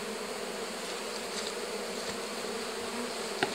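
Bees buzz at a beehive holding a single frame of paraffin wax, a steady dense drone throughout with a brief louder buzz near the end.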